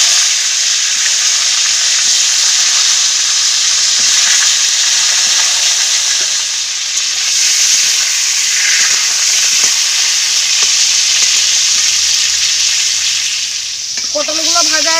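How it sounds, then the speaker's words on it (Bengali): Pointed gourd pieces frying in hot oil in a kadai give a loud, steady sizzle with crackling spatter throughout, no voices. "তেল গরম হয়ে গেছে, পটলগুলো ভেজে নেব।"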